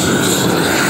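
A propane torch heats torch-down roofing membrane as it is lapped onto the next course, giving a loud, steady, unbroken roar with no pauses.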